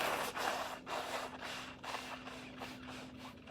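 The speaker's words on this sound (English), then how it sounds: "I gotta blow my nose again in this huge towel" A person blows their nose into a large blue fluffy towel, a series of muffled, snorting bursts of air repeating in uneven rhythm, close and fairly quiet.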